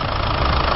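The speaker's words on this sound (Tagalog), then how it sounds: "Medyo gumanda na yung tunog ng makina." A 2007 Isuzu Crosswind engine idles steadily up close, a low continuous rumble with a faint rhythmic chug, with no voices over it.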